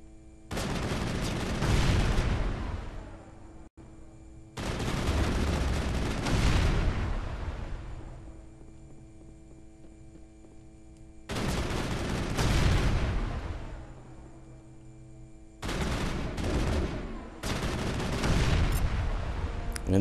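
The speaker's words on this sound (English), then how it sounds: "Is that your shotgun I hear there, Tally?" Shotgun fire in the video game Mass Effect bursts out in four separate loud clusters of blasts, each a couple of seconds long, with short quieter gaps between them.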